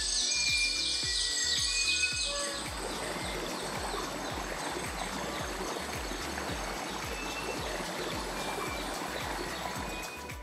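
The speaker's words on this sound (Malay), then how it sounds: "Bunyi kicauan burung dan cengkrik jelas terdengar sepanjang berada di Wasai Telingan ini, diiringi dengan bunyi air terjun yang mengalir jernih." Birds chirp and sing over a steady rush of clear flowing water from a waterfall at Wasai Telingan in Belait, the water noise continuous and fairly loud with repeated calls layered throughout.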